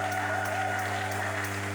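A church congregation applauds at a worship service, steady clapping spread across the room over a sustained low tonal hum, with no speech.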